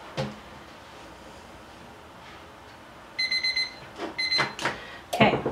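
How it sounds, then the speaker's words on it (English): A heat press timer alarm for sublimating a mug goes off in two short bursts of rapid high electronic beeping, loud and close, with clunks and handling knocks of the press around and after it. "Okay, so the timer's about to go off."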